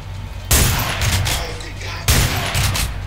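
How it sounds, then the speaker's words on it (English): Loud gunfire in the video game Underhell: two heavy bursts of rapid shots, each followed by sustained rattling fire and booming reverberation. "I'm shooting you in the legs."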